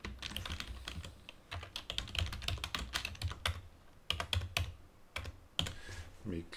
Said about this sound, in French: Je vais taper un titre.